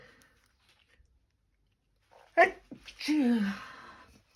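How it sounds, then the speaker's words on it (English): A single abrupt sneeze after near silence, followed by a short exhaled vocal sound from a nearby person. "I'm going to sneeze"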